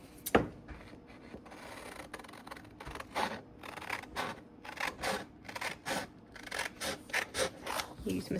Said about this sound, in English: use my scissors and cut them out.